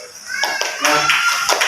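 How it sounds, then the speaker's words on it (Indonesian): A school class of children claps hands in appreciation of a group presentation, short bursts of clapping under a teacher's voice and children's chatter. "tepuk tangan."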